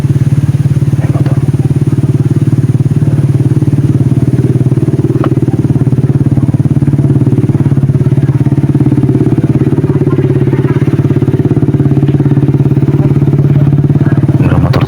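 Motorcycle engine running steadily at close range, a loud continuous low rumble throughout with occasional clatter.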